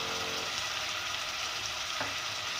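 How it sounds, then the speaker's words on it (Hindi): Tomatoes, chilli, turmeric, ground coriander and salt frying in a pan for aloo gosht, a steady close sizzle with broad hiss throughout and one brief clink partway. "मैं बहुत अच्छी तरह इस मसाले को भून लूँगी"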